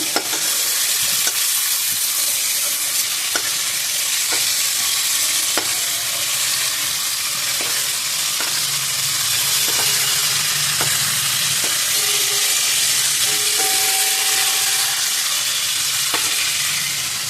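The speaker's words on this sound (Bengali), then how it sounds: "আলু আর ফুলকপি ভাজা হয়ে গেছে তুলে নিচ্ছি" Potato and cauliflower pieces frying in a pan of oil, a loud continuous sizzle broken by regular scraping and stirring knocks, heard alone without talk.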